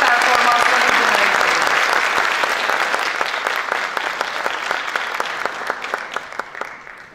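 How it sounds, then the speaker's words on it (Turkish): An audience at a choir concert applauds loudly and steadily, a dense wash of clapping that thins toward the end into scattered individual claps. "Değerli şefimiz Nevzat Karakış, alkışlarınızla solo performansını dinleyelim."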